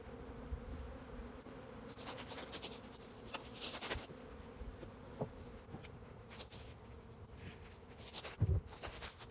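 Honeybees buzzing inside an open hive during a nuc transfer, a continuous humming drone with several louder passes as individual bees fly close, plus faint clicks and rustles.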